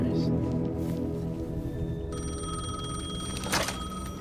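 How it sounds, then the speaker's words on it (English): A payphone rings in Alan Wake 2 with a sudden, steady, bright bell that starts partway through and sounds over a low, droning ambience. "The payphone was ringing."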